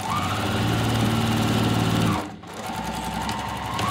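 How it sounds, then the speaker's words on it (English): Sewing machine running steadily while stitching a zipper pocket onto a bag, a loud continuous motor whir that pauses briefly just past the midpoint and then resumes. "Remove the pin and stitch along this edge, backstitching at the beginning and end."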